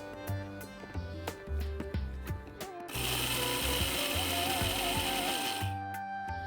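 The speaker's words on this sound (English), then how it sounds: "So now let's put the lid and let's grind." Mixer grinder pulverises horse gram with salt into powder, a loud steady high-pitched whirring grind running about three seconds after clunky lid and handling knocks, then stopping abruptly.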